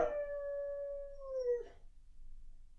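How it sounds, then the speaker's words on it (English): A dog on a couch lets out one long, loud, drawn-out howl that slides downward and breaks off after its toy falls to the floor, followed by quiet room noise. "This dog has an overly dramatic reaction when their toy falls off the couch."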